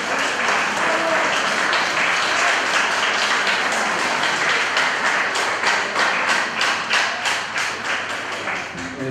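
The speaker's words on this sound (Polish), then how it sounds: "myślę, że należą im się tutaj teraz ogromne brawa" Audience applause fills a school ball, a dense crowd clapping loudly and steadily throughout, with individual claps growing more distinct toward the end.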